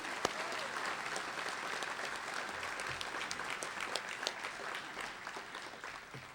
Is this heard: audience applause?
yes